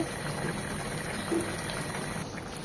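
Ayer fish and eggplant stew bubbles gently in an uncovered pot, a soft steady simmer with faint popping, heard alone at low level.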